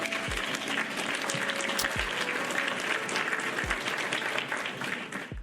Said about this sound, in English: So a round of applause for Dr. Pierre Grimes.